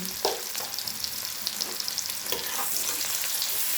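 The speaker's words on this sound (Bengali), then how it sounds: "মশলাটাকে আমি ভালো করে কষে নেব।" Spice paste with tomato, turmeric and salt frying steadily in a pan, a continuous close sizzle with a few scraping stirs, no voices.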